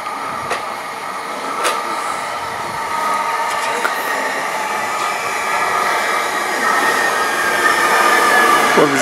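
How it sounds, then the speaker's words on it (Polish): A Koleje Mazowieckie Stadler Flirt electric multiple unit passes through a station platform, giving a steady loud rolling rumble with hissing and faint squeal, building slightly toward the end, with no talk. "Nie, to jest flirt kolei mazowieckich."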